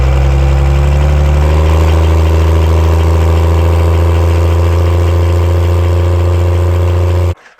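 A nitrous drag race car engine runs hard during a spool attempt, a very loud, deep steady drone with a slight rise in pitch early on before cutting off abruptly at the end.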